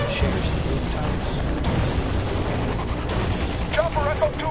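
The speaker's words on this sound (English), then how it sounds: "Make it to this helicopter without a problem" A helicopter in the video game Fear 3 hovers close overhead with a loud, continuous rotor roar, while game voices talk over it.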